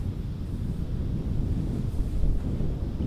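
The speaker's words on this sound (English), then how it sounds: "you can see the wind starting to pick up" Wind on a golf course rumbles and buffets against the microphone as a steady low roar, with no talking.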